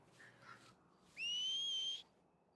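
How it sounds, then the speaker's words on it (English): A single rising whistle summoning a horse in the video game GTA roleplay, held steady for about a second, clear and fairly near, following a faint earlier chirp. "Try to keep the whistle a bit more hushed."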